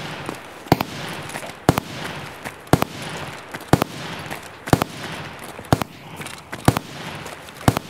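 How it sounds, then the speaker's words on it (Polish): Gunfire in the video game Escape from Tarkov, in the Woods map: regular sharp single shots about once a second, moderately distant and echoing, over a steady background hiss with no talking. "Ale to się strzela gdzieś tutaj."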